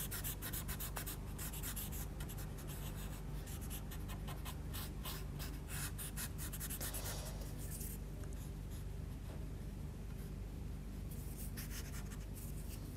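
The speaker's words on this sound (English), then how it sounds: "We'll take our paper stump and just blend this" Soft, continuous rubbing of a paper stump blending Derwent pastel across paper, close and quiet, with steady scratchy strokes and brief pauses.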